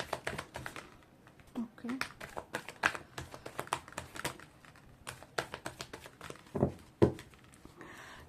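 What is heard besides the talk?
shuffling tarot cards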